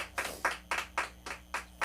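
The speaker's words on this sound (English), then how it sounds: "How about a round of applause?" A small talk-show audience claps in a quick, even rhythm, about seven crisp hand claps close by, fairly quiet with no talk over them.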